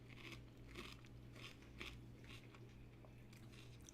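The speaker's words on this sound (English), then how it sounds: "Sorry for the obnoxiously crunchy celery sounds." Crunchy celery is chewed close up, with sharp crisp crunches repeating about every half second at a quiet level.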